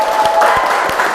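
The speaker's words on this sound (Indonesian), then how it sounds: "Tepuk tangan buat kita semua." A classroom of students applauds at the start of a microteaching lesson, a brief burst of many hands clapping, moderately loud with a few distinct claps standing out.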